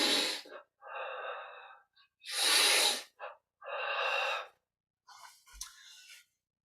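Deep yoga breathing during an exercise: a series of forceful, breathy inhales and exhales in separate bursts with short pauses between them, close and clear, with no talking.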